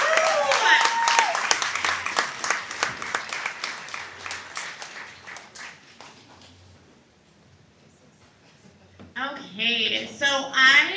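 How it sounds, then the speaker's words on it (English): An audience at a community meeting applauds panelists with sharp, fairly close clapping that gradually thins and fades out, after which a person starts talking. "So can we get a round of applause for all of our panelists today?"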